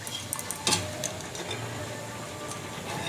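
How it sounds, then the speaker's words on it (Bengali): Fried mutton is added to a spiced masala with hot water in a pan for parda biryani, bringing a low simmering sizzle, a few scraping clinks of a spoon against metal, and a brief louder clatter near the start. "এবার আমি মটনটা দিয়ে দেবো, ভাজা মটনটা।"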